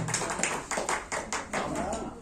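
At a literary gathering, the audience welcomes a guest with rhythmic, evenly spaced claps, about nine distinct beats in quick succession.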